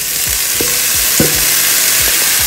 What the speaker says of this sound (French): je viens d'augmenter mon feu pour jeter mes champignons frais